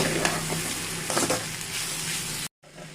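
Ivy gourd fry with tamarind sizzles in a pan as it is stirred, with scraping strokes over the steady frying hiss, then a brief cut to silence before the sizzle resumes; no talking.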